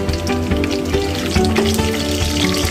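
Bay leaves hit a pan of hot ghee and set off a steady, loud, close sizzle with small crackles and pops. It runs unbroken through the whole stretch.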